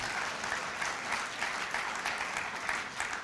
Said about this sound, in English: you're going to have to applaud them again